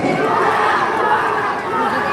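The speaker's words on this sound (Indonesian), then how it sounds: "Wow, boleh kasih tepuk tangan ya" A large crowd roars and cheers loudly and steadily at the closing of an arts and culture festival in Palembang, a dense continuous wash of voices.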